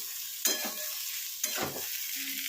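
Potatoes and pointed gourd frying in a pan, a quiet continuous sizzle broken by two scraping stirs of a spatula.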